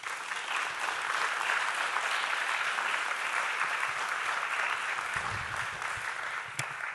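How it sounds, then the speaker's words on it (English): A conference room audience at a corporate governance event gives a steady, full round of applause for the secretariat staff, dense clapping throughout with no talk. "Please give them a round of applause."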